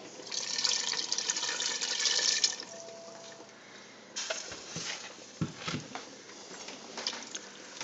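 Cold water is poured from a container for turkey gravy, a bright steady splashing stream that stops, followed by scattered drips, small clinks and faint kitchen handling sounds.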